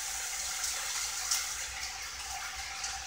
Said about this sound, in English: The water's starting to get a little bit bubbly.